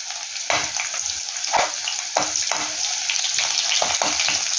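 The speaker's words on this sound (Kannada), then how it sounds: "ಬೆಳ್ಳುಳ್ಳಿ ಹಾಕ್ತಾ ಇದ್ದೇನೆ ನೋಡಿ, ಮತ್ತು ತೆಳ್ಳಗೆ ಕಟ್ ಮಾಡಿಕೊಂಡ ಈರುಳ್ಳಿ ಕೂಡ ಹಾಕ್ಕೊಳ್ಳುವ" Garlic and thinly sliced onion sizzle steadily in hot oil for a Mangalore-style clam sukka, with a loud continuous hiss broken by several stirring scrapes of a spoon against the pan.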